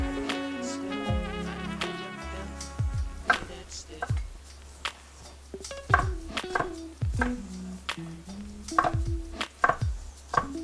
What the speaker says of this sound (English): I'm chopping these into a large dice, about an inch by an inch.